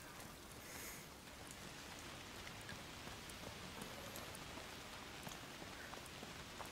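Steady, even rain falls in A Plague Tale: Requiem, a dense patter of drops hitting surfaces that continues without pause, quiet and close.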